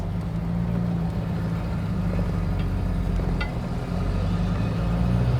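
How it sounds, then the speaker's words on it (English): A 1932 Packard car pulls off in first gear, its engine giving a steady, continuous low rumble close by with no voices over it. "All right, clutch is in. I'm gonna go to first gear, and off we go."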